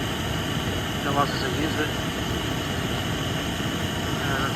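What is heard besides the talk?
small gas camping stove burning to boil a kettle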